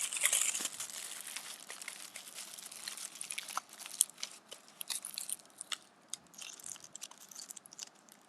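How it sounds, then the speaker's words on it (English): A thin metal sheet crumpled by hand, giving dense crinkling and crackling that is loud at first, then thins into sporadic sharp crackles, close up with no voices. "this metal is made into a sheet, right? It was made into a sheet. I crumbled it."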